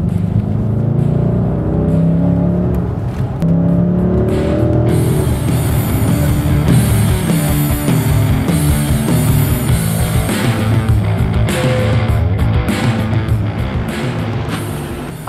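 A Dodge Challenger's engine revs hard and accelerates, a loud, throaty roar that rises and falls through repeated surges and gear changes, close by and dominating the whole stretch.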